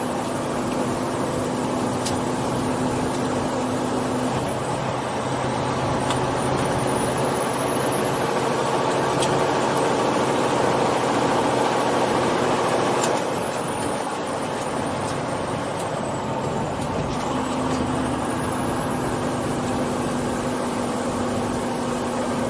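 Truck pulling a loaded pneumatic tank trailer rumbles on a steady engine drone, with a thin whine that rises and falls and a low hum that drops out midway, continuous and fairly loud.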